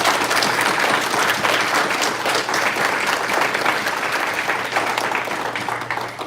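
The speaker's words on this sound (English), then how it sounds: "Another round of applause for Rafe" A convention panel audience applauds steadily, a dense wash of many hands clapping that holds evenly for several seconds before easing slightly at the end, with no talk over it.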